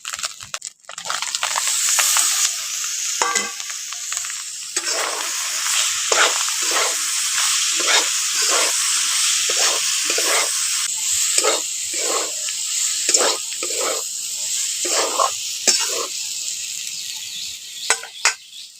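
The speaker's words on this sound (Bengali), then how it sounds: "এখন পেঁপেটাকে একটু কষে নিয়েছি" Boiled raw papaya and potato stir-fried with ginger in a pan sizzle steadily and loudly, while a spatula scrapes and stirs in a regular rhythm of short strokes throughout.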